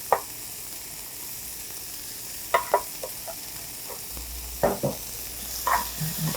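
Button mushrooms sauté with onion and paprika in a pan, a soft steady sizzle under sharp intermittent spatula scrapes and taps against the pan, close by.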